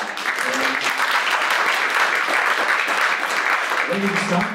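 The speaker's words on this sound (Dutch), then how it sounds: "applaus ook voor deze ronde" An audience at a live youth debate in Limburg applauds steadily for several seconds, a dense even wash of clapping with a few voices calling out beneath it.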